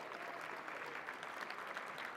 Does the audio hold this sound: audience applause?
yes